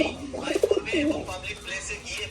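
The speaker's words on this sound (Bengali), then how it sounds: "খাঁচার জোড়া ফার্স্ট যে পেয়ার লোটন পায়রা" Lotan pigeons in a cage give a few soft, close coos, a short rolling burst followed by a longer one, with faint background noise.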